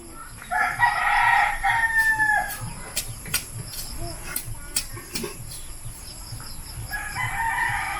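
A rooster crows loudly twice, one long call near the start and another at the end, with softer clucks and scattered knocks in between. A faint steady insect hum runs underneath.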